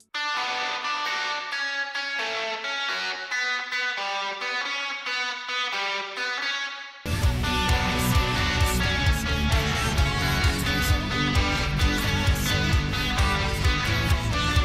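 Electric guitar plays a bridge riff through a pitch shifter and reverb: a bright, shimmering picked pattern first, then a loud, dense distorted section joins for the second half, with no talk.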